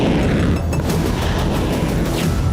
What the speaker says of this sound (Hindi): रूसी सैनिकों ने क्रीमिया से 2 इस्कंदर M बैलिस्टिक मिसाइल से प्रहार किया।